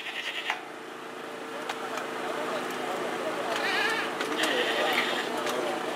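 Goats bleat at a livestock fair in Guriezo amid a crowd: several wavering bleats, one early and a couple later, moderately near, over constant chatter and voices of many people.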